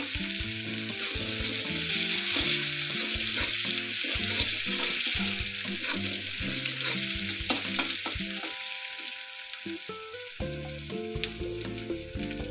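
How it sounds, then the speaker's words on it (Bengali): Chopped onions sizzle and fry in a pan for a mixed vegetable dish, a steady crackling hiss with occasional stirring scrapes, with no talking. "এবার দিয়ে দেবো আমি কেটে রাখা পেঁয়াজ কুচিগুলো। হালকা আমি সেগুলো ভেজে নেব।"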